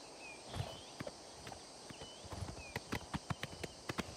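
A video-game horse gallops in steady, rhythmic hoof clip-clops that quicken and grow louder toward the end, with no talk over them.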